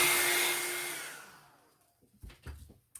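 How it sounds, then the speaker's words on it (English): A hair dryer blasts air onto mixed media collage artwork with a loud, close whoosh that fades out after about a second and a half, followed by a few soft handling taps. "just give it a blast on the hairdryer"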